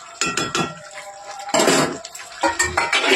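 Spinach and fish-head curry stirred in a pan, with a spoon scraping and clinking against the metal in a few uneven bursts, close and fairly loud, alone without talk.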